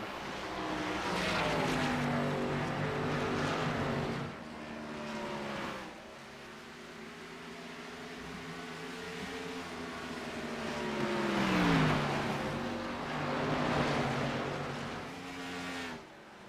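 Race cars circle a track in the iRacing sim during an oval special event, engines droning and rising and falling in pitch as they pass, a sustained layered roar of several cars at moderate distance.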